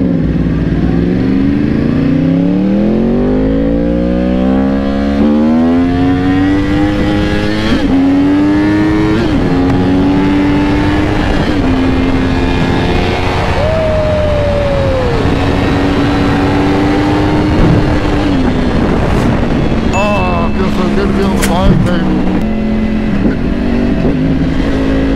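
Yamaha R1 sport bikes accelerate hard in a drag race, engines screaming loud and close with rising pitch through repeated gear shifts, one stock and one ECU-flash tuned, the roar sustained for the whole run.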